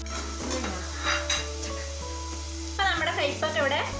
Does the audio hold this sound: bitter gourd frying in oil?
yes